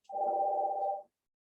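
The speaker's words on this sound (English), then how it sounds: "the phone's gonna keep ringing" A telephone gives a single electronic ring, a steady tone lasting about a second that then cuts off into silence.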